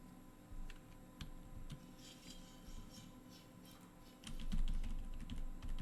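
Quiet typing on a computer keyboard during a Power BI DAX lesson, with scattered light key clicks that pick up into a denser burst of taps near the end.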